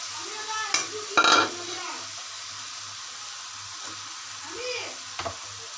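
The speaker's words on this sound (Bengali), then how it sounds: "এখন আমি এগুলো ভালো করে কষিয়ে নেব" Dried fish with leafy greens and stalks, eggplant and potato is stirred and sautéed in a pot, making a low sizzle broken by a few sharp scraping stirs, with a faint hum beneath.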